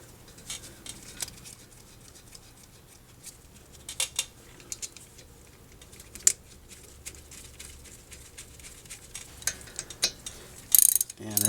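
Bolts being fitted on a 2002 Toyota Camry front brake caliper, with scattered metallic clicks, ratcheting and tool clinks at close range, mostly sparse with a louder burst of clatter near the end.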